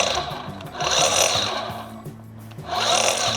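A Bosch UniversalGrassCut 18V-26 cordless grass trimmer runs close by in two surges of fairly quiet whirring, cutting through grass with a soft swishing buzz and a brief lull between.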